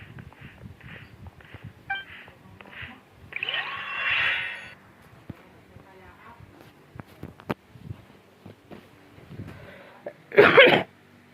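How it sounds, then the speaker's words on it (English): Several close, sharp coughs and throat clearing scattered through quiet background speech, ending with one loud, harsh cough burst. "Sorry for coughing, guys."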